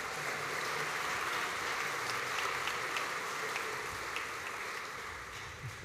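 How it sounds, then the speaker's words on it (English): An audience applauds graduates at a Melbourne Polytechnic graduation ceremony, a steady, fairly faint wash of many hands clapping in a large hall that holds for several seconds before tapering slightly. "Let's give a warm round of applause for all of our Vet Human Services and Education"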